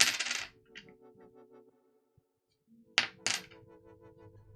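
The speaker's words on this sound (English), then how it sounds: "that's not a 5-cent piece, but it's an old coin from somewhere." An old coin drops onto a hard surface, a bright metallic ring at the start followed by a faint ringing decay, then two more quick clinks a few seconds later, each settling into a resonant tone.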